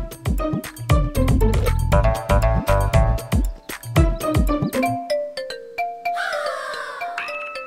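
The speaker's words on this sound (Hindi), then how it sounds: "किसका फोन है? आपका फोन?" A mobile phone ringtone rings in a domestic TV-drama scene. Bright chiming bell-like notes repeat in a quick melodic pattern, then thin out into sparser pings and a shimmering tail, loud and unaccompanied.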